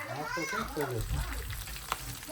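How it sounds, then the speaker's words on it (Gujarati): Gota fritters frying in hot oil in a home kitchen, a steady crackling sizzle running under people talking nearby, with a brief sharp pop near the end. "આ બાજુ ગોટા તળાય છે"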